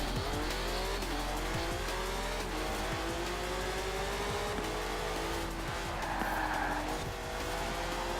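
Car sliding in Forza Horizon 4, with the engine revving in rising sweeps and the tires squealing loudly as it skids through corners, a continuous roar with no talk.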